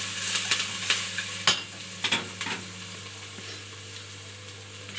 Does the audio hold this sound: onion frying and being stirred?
yes